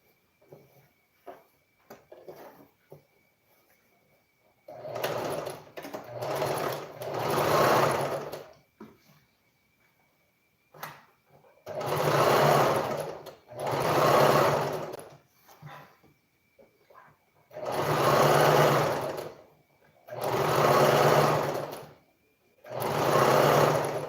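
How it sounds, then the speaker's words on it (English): Sewing machine running close and loud while top stitching an Ankara long skirt, in several sustained bursts of rapid whirring, separated by short pauses and small clicks. "I want to top stitch."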